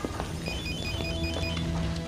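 A phone rings with repeated short electronic tones in a steady pattern, moderately loud over a faint background hum.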